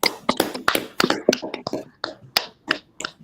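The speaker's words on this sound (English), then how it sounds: "Y'all clap it up, man." A small group claps in scattered, uneven sharp bursts at a religious law class gathering, loud and close, with some claps landing near-simultaneously and brief gaps between.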